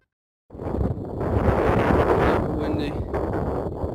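Steady wind buffeting a microphone outdoors, a broad rushing roar that starts abruptly and continues loud throughout.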